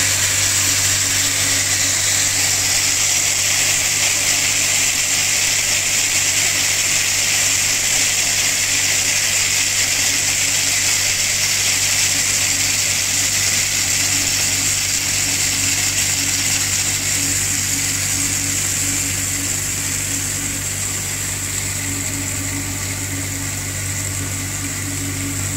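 An Arburg Thermolift 100 plastics dryer with its feeder conveys material, producing a loud, constant mechanical hum and whirring drone with steady low tones, unbroken for the whole stretch.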